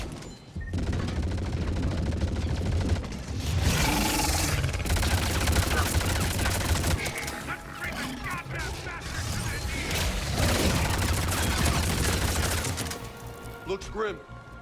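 Sustained gunfire in the modded video game Mass Effect 3: dense, loud volleys of shots and bursts rolling on for long stretches, with a brief lull partway through and voices talking over the battle.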